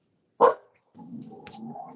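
A dog gives one short, loud bark, then a softer drawn-out whine or growl follows, close by and alone without talk.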